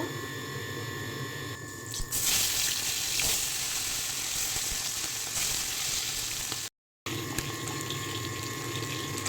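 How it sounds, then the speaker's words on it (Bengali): Puti fish sizzling and spattering in hot oil in a wok, a steady loud crackle with a brief break partway through and no talking. "তেলটা গরম হয়ে গেছে এখন মাছগুলি ভেজে নেব"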